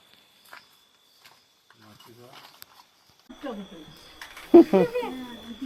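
A Diwali fountain firework (paus) is lit and bursts into a steady hiss and crackle that runs for a couple of seconds, with people talking and exclaiming loudly over it.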